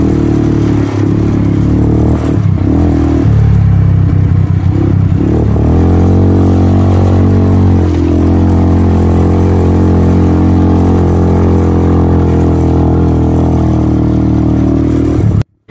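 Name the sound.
motorcycle riding in the desert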